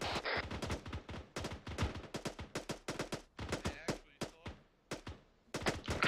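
Rapid bursts of gunfire crackle during a military field training exercise, sharp close shots fired in quick irregular volleys with brief pauses between, and faint radio talk at one point.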